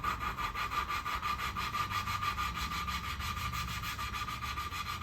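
A Saab 900 Turbo engine valve being lapped with grinding compound gives a steady, rhythmic gritty rubbing, fast back-and-forth strokes repeating evenly, close and fairly quiet, with no talking.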